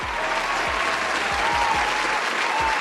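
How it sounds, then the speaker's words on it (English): Steady, dense audience applause fills the space, even and continuous throughout with no talking. "Give her a round of applause."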